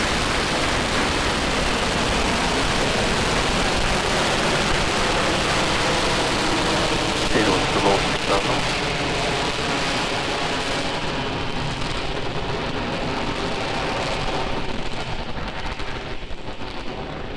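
A SpaceX Falcon 9 carrying a Crew Dragon capsule lifts off from pad 39A at Kennedy Space Center, giving a loud, unbroken, crackling roar that stays steady and fills the whole stretch.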